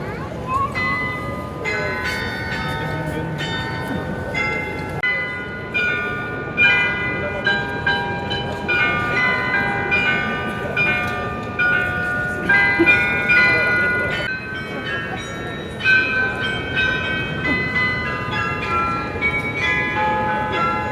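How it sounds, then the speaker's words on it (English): Marienplatz clock in Munich chiming a sequence of bell tones, ringing melodic strikes that overlap and decay over a steady crowd murmur outdoors. "Listen to the clock, which apparently we were just very lucky on timing because it only chimes certain"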